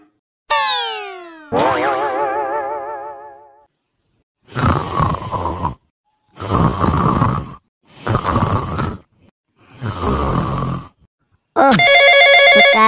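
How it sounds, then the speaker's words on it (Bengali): A cartoonish boing and wobbling tones lead into several bursts of vocal grunts, then a loud electronic telephone ring at the end, in a comedy sketch. "কে ফোন করে ডিস্টার্ব করছে রে"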